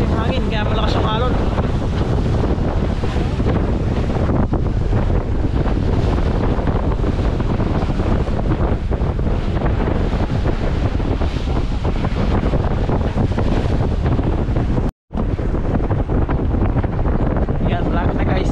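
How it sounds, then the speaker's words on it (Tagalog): Strong sea wind buffets the microphone in a continuous loud roar on a boat nearing Jomalig port, mixed with rushing waves and faint voices, broken by a sudden brief dropout. "Malakas yung hangin, kaya malakas yung alon."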